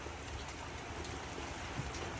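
Steady rain pours outside a horse stable as a soft, even hiss that lasts throughout and holds at a low, constant level.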